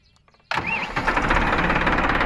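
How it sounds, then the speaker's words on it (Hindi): A Massey Ferguson 241 tractor engine cranks and fires after a brief quiet moment, then settles into a loud, rough, steady diesel rumble that carries on to the end. "ये अपना ट्रैक्टर हो चुका है स्टार्ट"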